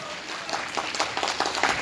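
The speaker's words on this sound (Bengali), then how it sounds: "জোরদার হাততালি আপনাদের কাছ থেকে আমরা চাইব।" An audience applauding at a school prize-giving ceremony after a musical play, a dense patter of clapping that builds slightly over its short run, heard from within the crowd.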